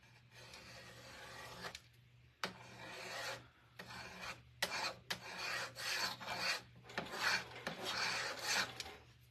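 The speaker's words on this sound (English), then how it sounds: "I'm going to take my paste scraper and we're going to scrape off that wax that we put on there" A paste scraper drags across wood to lift off wax in a series of close, rasping strokes, each scrape a few seconds long with brief pauses between, steady and fairly loud with no talking.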